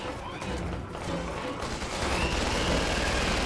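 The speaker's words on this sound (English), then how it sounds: "And now he's shooting at us." Sniper gunfire in the Resident Evil 6 video game rings out as a dense, steady rattle of shots and impacts, loud and continuous, with a player's voice talking over it.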